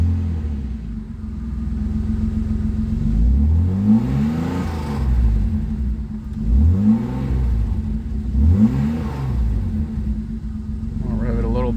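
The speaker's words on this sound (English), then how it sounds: "I'll rev it a little bit so we can circulate the oil" A cold car engine idles low and is revved several times in slow swells, each rise and fall in pitch repeating close and loud, to circulate the oil; the clutch is held in and a voice speaks under the rumble.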